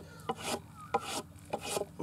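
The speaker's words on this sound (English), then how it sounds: "And then I always finish it with the hand plane." A hand plane makes repeated smoothing strokes along wood, each a rasping, shaving swish with a sharp catch at its start, about four strokes in steady rhythm, close and clear, used to finish a surface first rough-cut with a chainsaw and electric plane.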